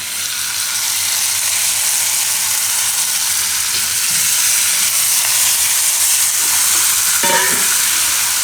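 Steady, close frying sizzle of pointed gourd curry in a pan as tomatoes are stirred in for a Gujarati parvar oro dish, with faint scraping of the stirring near the end.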